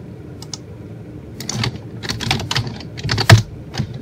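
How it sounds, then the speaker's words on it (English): Fingers tapping on a computer keyboard nearby, irregular bursts of key clicks with short pauses and one louder thump. "I just clearly can't type"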